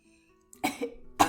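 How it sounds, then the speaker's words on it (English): A person coughs twice in quick succession, close and fairly loud, with a short sharp first cough and a second burst about half a second later, in an otherwise quiet room. "I seriously thought there was a child coughing behind you because of the way you started coughing"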